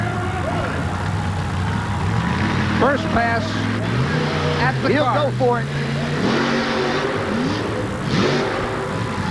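Supercharged alcohol-burning truck pulling engine at a 1988 tractor and truck pull in Kansas City revs and roars in rising surges under a loud announcer's commentary and crowd noise.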